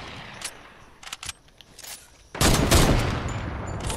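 Sniper rifles fire in Fortnite's Sniper Shootout mode: a few scattered sharp shots ring out, then a loud, heavy burst of gunfire follows and keeps rumbling on.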